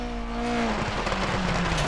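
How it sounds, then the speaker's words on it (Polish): A car slides on locked wheels across asphalt in Dirt Rally 2.0, tyres scrubbing with a loud, steady hiss while the engine note drops and wavers underneath. "Czasami fajnie jest się tak ślizgnąć na wszystkich kołach zablokowanych"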